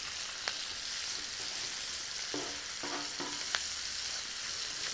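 Bacon and onion fry on a disc cooker outdoors, a steady close sizzle with a few scraping stir strokes and light metallic taps, no talking.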